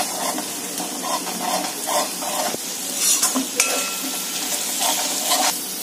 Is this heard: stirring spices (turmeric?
yes